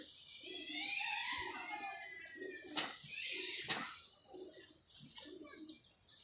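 Pigeons coo softly in repeated low phrases while wings flap in sharp bursts nearby, with someone speaking quietly under the bird sounds.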